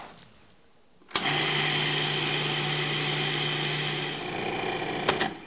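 A food processor whirs steadily as it purees pumpkin seed pate, a loud continuous motor drone with a sustained hum that starts abruptly after a quiet moment, runs for several seconds, then winds down to a brief clatter at the end.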